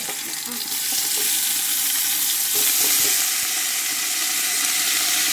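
Whole unemptied fish fry in about two decilitres of hot olive oil for a fish soup, making a loud, steady sizzle with bursts of spitting, close up and with no talk.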